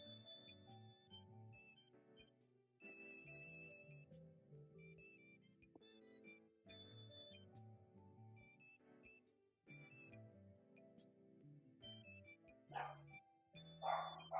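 Cartoonish dog barks from a drawing minigame, several short yips and bow-wows repeating against a bouncy game music track, with the music dominating and the barks fairly clear.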